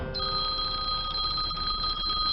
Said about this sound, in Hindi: तुम्हारा फोन? बजी, घंटी बजी।